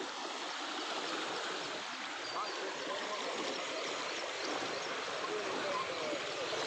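Loud, steady roar of a swollen monsoon village river, a dense rushing torrent close by with no pauses.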